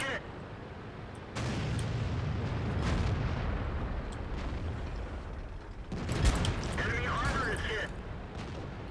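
Loud booming cannon fire from tanks in World of Tanks, heavy blasts at about 1.3 and 6 seconds over a rumbling battle bed, with a voice briefly talking.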